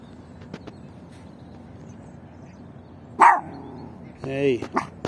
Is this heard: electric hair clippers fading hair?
no